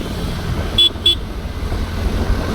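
A vehicle horn gives two quick toots on a Bangalore road between Sarjapur and Kasavanhalli, set against steady loud traffic rumble and engine noise.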